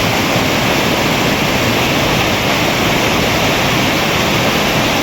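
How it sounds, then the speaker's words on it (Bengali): Loud, unbroken roar of a waterfall in North Sikkim, partly frozen into ice, a dense rushing wash of water filling the whole scene at close range without pause or voices. "ঝর্ণার আওয়াজ শোনো তোমরা"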